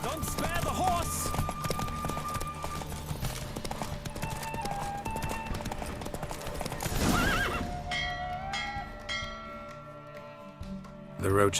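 In The Witcher 3, a racing horse gallops with quick, loud hoof strikes and clear neighing, then the pounding stops and things go quieter near the end, with voices heard over parts of it.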